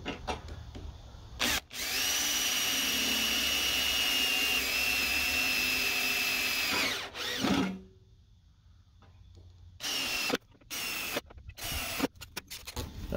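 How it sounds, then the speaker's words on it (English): A power drill with a 3/16 bit bores into a steel mowing deck on a Deutz-Allis 1918, a loud, steady high whine that holds for about five seconds, then stops. Shorter bursts of drilling follow near the end. "So I'm drilling with a 3/16 and then I'll drill with a 3/8 after."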